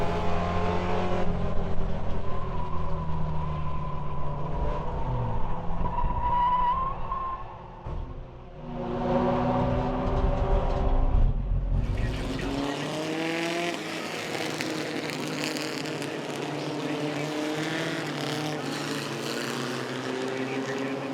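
Super trucks racing at Langley Speedway, engines roaring loudly and continuously with a brief dip in the middle, then a harsher, fuller roar as the field passes close by.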